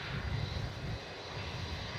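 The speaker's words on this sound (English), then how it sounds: "Jetstar 513 is a 320 Neo in from Sydney, just coming over the interchange." A Jetstar Airbus A320neo arriving from Sydney roars steadily on final approach to runway 34 at Melbourne Airport, a constant, fairly distant jet rumble with no voices.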